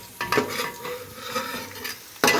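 Onions frying and being stirred in a pan for a homestyle Kerala chicken curry, with a steady close sizzle broken by several scraping stirs of a spoon against the pan.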